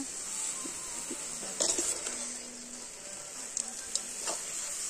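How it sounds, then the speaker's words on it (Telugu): Beetroot frying in oil gives a steady, even sizzle with a bright hiss, broken by a few small pops and a brief louder crackle as it is stirred, close and fairly quiet. "దీన్ని ఆయిల్లోనే ఉడకనివ్వాలి."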